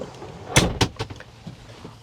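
Cab door of a Kawasaki Ridge XR side-by-side UTV being shut, two quick sharp latching thuds in close succession followed by a lighter rattle, near and brief.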